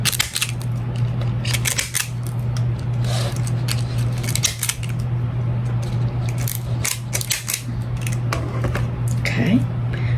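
Scissors cut through craft material for patriotic angel wings, a series of crisp, irregular snips close up, with a person speaking and a low steady hum underneath.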